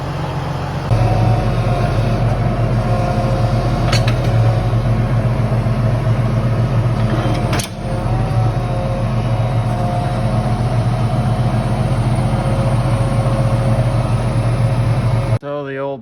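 A tractor engine runs steadily and loudly while a grain cart is backed into a shed, a constant low rumbling drone with a brief dip partway through and a cutoff near the end.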